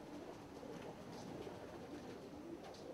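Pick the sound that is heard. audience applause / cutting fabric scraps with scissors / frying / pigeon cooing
pigeon cooing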